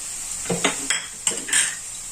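A spiced prawn mixture with coriander, cumin, chilli and garam masala powders is stirred in a pan for prawn chops, a spoon scraping and clinking against the metal in several short close strokes over a faint sizzle.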